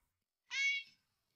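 A cat, part of a children's animated story, lets out one brief, clear high-pitched meow in otherwise silent surroundings.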